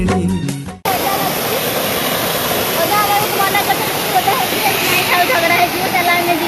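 A waterfall at Jaydev Vatika roars loud and continuous, a dense rushing wall of water that begins abruptly after a brief different sound at the start and continues unbroken, with no voices.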